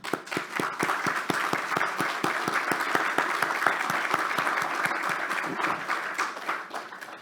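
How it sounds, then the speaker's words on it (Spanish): Crowd at a faculty of engineering's academic year opening ceremony gives a long, strong round of applause. Many hands clap steadily in a dense rhythm for several seconds before it thins out. "brindémosles un fuerte aplauso"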